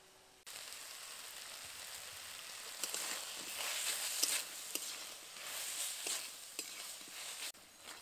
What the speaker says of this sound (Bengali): গিমা শাকটাকে আলু বেগুনের সাথে আবারও কিছুক্ষণ ভালো করে নেড়ে চেড়ে নিয়েছি